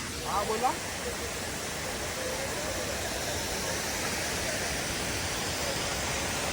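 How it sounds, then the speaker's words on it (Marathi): A constant rushing roar of a small waterfall fills the scene, with a brief voice near the start before the steady noise continues alone. "छोटा आहे धबधबा, पण भारी आहे."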